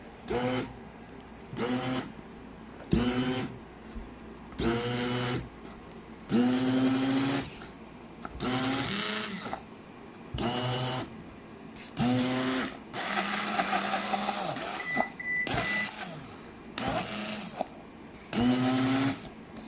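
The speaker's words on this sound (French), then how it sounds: "Maintenant, je vais utiliser le mélangeur électrique." An electric mixer blends a batter in a home kitchen, whirring in repeated short bursts of a second or so each with brief pauses between, close and fairly loud.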